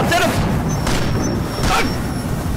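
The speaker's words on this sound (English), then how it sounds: "I just shot him" Gunfire in the horror video game Haunted Memories: a few sharp, booming shots spaced about a second apart, loud and close, over a steady background of game ambience.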